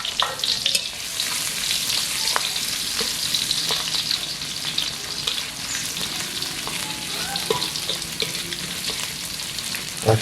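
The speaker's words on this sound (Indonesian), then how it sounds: "Dan sambil nunggu liwetnya kita mau numis kangkung dulu." Shallots and garlic sizzle in hot oil as the start of a stir-fry of water spinach, a loud, steady, close crackling hiss that runs throughout with small pops and the occasional stir.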